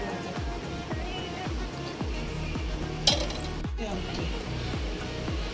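Steady sizzle as tadka tempering meets cooked dhaba-style chana dal, with soft repeated stirring or squelching pulses underneath and a brief clatter of a pot or utensil partway through.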